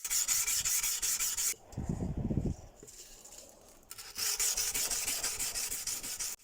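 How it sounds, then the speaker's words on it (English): Steady rasping strokes of hand sanding a forged Damascus steel dagger blade with a curved sanding stick, broken by a brief low thumping pause midway, then the scratchy rubbing resumes close and loud. "I've got a sanding stick that has a similar curve to it."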